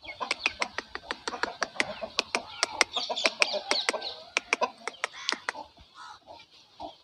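A rooster and a flock of pet chickens at a home cluck in rapid repeated bursts, a close, busy run of sharp calls that thins out toward the end.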